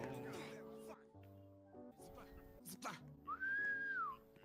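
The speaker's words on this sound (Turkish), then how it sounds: "bu ıslık çalan çok sinirim bozdu" A bright, rising-and-falling whistle in a Roblox game sounds over game music and effects, with a person talking in the background.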